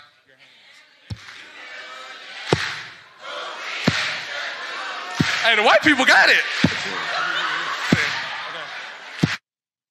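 Audience at a talent show clapping along in a slow, regular beat, sharp claps roughly every second and a half, with a performer talking loudly over the rhythm.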